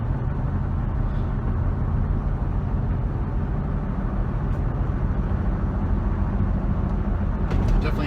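A 2011 Jeep Wrangler Rubicon 4x4 drives along, heard from inside as a steady low engine and road rumble that holds constant throughout.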